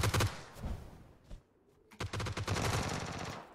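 Rapid automatic gunfire rattles in PUBG, a loud burst of quick shots at the start, a brief lull with a stray crack, then a longer sustained volley of close, fast shots.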